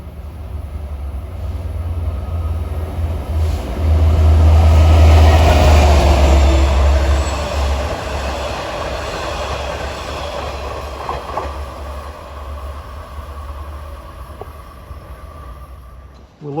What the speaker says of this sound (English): Approaching east at 4:09 is train 656 en route from Hunters Point Avenue to Port Jefferson